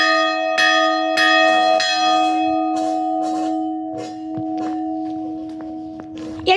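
A large bell rung at a transportation museum, sounding a series of bright metallic strokes, about once every half second at first and then softer and more irregular, each leaving a long sustained ring beneath.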